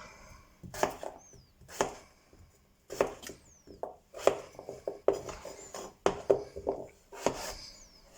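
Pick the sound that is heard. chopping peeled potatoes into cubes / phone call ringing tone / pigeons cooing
chopping peeled potatoes into cubes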